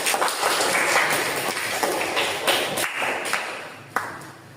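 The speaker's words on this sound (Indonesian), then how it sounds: "beri tepuk tangan kepada kelompok 3" A classroom audience claps for a student group that has just finished presenting, a steady crackle of many hands with scattered louder taps, lasting the whole moment before easing off.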